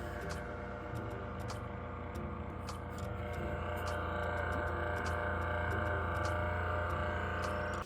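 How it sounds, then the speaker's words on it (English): Steady, loud mechanical whirring with a constant tonal hum throughout, slightly growing in intensity, from the cooling fans of an Asus TUF Gaming FX705DT laptop running hard. "the fans started making real noise"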